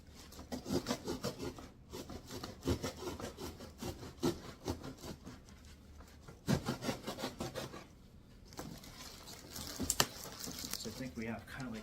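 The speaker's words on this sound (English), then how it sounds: "I'm going to cut down this side of the box." A blade cuts down the side of a cardboard box from a kids' table and chair set, making a continuous, fairly faint rasping scrape in repeated short strokes, with brief pauses.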